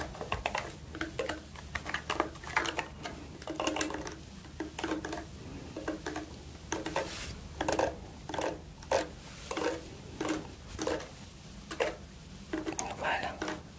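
Brush stroking during an ASMR personal-attention care session, soft repeated scratchy brushing strokes in a steady rhythm, close and intimate, with no one speaking over them.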